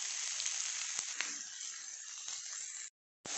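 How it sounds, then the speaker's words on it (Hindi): Chopped onions hitting hot ghee in a pan, giving a steady, fairly quiet sizzle with small crackles that cuts off abruptly near the end. "घी गरम हो चुका है, प्याज डाल दें।"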